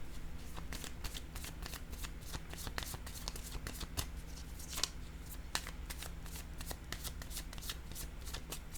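Tarot cards are shuffled close by in a quiet room, a dense run of crisp riffling flicks and slaps that goes on throughout, with a couple of sharper snaps as cards are handled.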